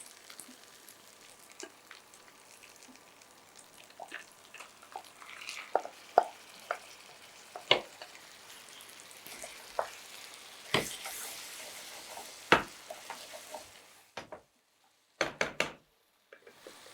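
Chicken fries for chicken thokku in a pan with a quiet, crackling sizzle. Irregular spoon knocks and stirring taps punctuate it, and the sound cuts out briefly near the end.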